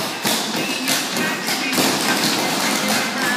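Quick tap dance steps on a hard floor, rapid clicking and thumping strikes in uneven bursts, loud and close, with a voice calling steps over them.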